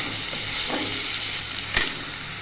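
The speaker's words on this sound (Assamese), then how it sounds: "এতিয়া মই শুকান মচলাখিনি লৈছিলোঁ, সেইখিনি দি অকণমান ভাজি ল'ম।" Ginger-garlic paste and dry spices fry in a pan over a low gas flame, making a steady, close sizzle with a single sharp crackle or stir partway through and no talking.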